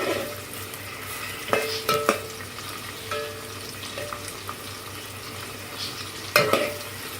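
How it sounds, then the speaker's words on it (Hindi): Onions being stirred and fried until brown for a pea pulao, giving a steady low sizzle broken by a few sharp scraping clinks of the spoon against the pot. "प्याज को हम रंग बदलने तक मुसलसल पकाएंगे।"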